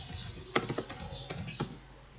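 A quick burst of computer keyboard typing: about eight crisp key clicks in two short groups, close up and clear over a quiet background.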